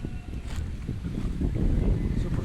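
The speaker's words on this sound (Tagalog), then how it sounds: "Sa tabi ng dagat, malakas ang hangin." Strong gusty wind by the sea roars and buffets the microphone, a low rumbling rush with no voices.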